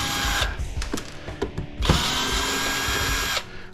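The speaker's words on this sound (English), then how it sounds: "There's 4 screws. It won't take but a minute to take them out." Small power driver backing four screws out of a small plastic device, a buzzing whir with brief stops and clicks, then a longer steady run, close to the listener.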